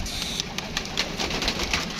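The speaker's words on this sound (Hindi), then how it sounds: "ये देखें जी दोस्तों, ये कबूतर" Pigeons kept by a fancier flutter and coo close by, a steady bed of soft wingbeats with brief chirps and rustles running continuously throughout, no voices present.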